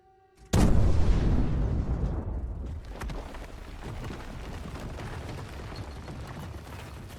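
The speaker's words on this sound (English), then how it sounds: "So when everyone leaves the blast zone, the mines are detonated." Anti-tank mines planted in a hole by soldiers detonate in one sudden loud blast, followed by a long rumbling roar and crackling debris that slowly fades over several seconds, with no voices.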